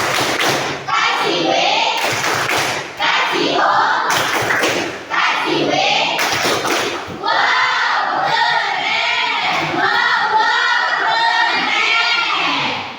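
A classroom of students claps together in a "tepuk wow" chant, a few sharp unified bursts of clapping spaced a couple of seconds apart, mixed with loud group voices calling out and cheering.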